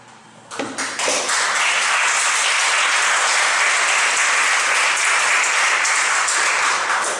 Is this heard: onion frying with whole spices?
no